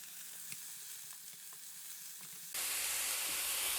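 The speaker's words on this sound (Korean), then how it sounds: "다시 또 기름을 두르고 이번에는 배추를 볶습니다." Cabbage stir-fried in oil for japchae hits the hot pan and erupts into a loud, steady sizzle partway through, following a quieter stretch of faint kitchen clatter.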